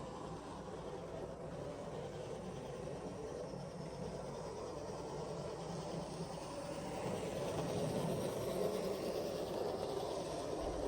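A Kato N gauge model train runs steadily around Kato track, giving a continuous low rolling rumble and whir that swells slightly louder toward the end, with no talking.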